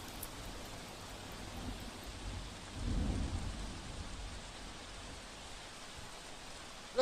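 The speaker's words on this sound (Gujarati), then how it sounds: "તો ફરીવાર હવે મેઘરાજાએ વરસવાનું શરૂ થયું છે" Heavy rain pours down in the city streets of Surat amid flooding, a dense steady hiss with a low rumble swelling briefly in the middle, no voices.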